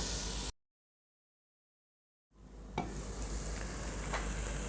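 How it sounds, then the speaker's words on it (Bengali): Chopped tomatoes fry in a covered pan with a steady, close hiss. It drops to near-silence for about two seconds, then the sizzle returns with a couple of sharp clicks. "এই টমেটোগুলোকে একটু ঢেকে দেবো ঢেকে এগুলোকে ভেজে নেব"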